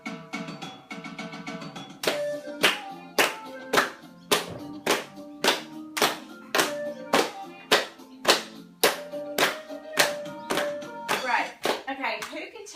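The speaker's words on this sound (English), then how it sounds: "everybody clap along with me" Classroom group clapping along to music, loud, sharp, evenly spaced claps in a steady beat over a tonal musical backdrop, starting after a brief musical intro.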